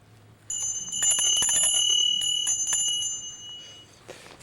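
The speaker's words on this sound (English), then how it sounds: "This little bell here makes a nice little tingling noise." A small metal bell rings with a quick series of bright, tinkling strikes whose clear tones linger and fade, heard up close with no talking.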